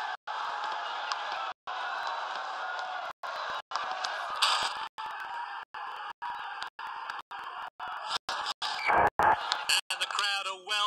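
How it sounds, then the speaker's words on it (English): Roaring football stadium crowd cheering after a goal, a sustained wash of voices and whoops with brief cutouts, while a commentator talks over it. "the crowd are well behind their team now"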